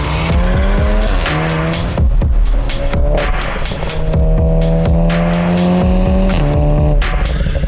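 A 2013-era Volkswagen Golf 7 R 2.0 TFSI, tuned to about 400 hp, revs and shifts loudly and repeatedly, with tires squealing through turns; close and continuous, no talking.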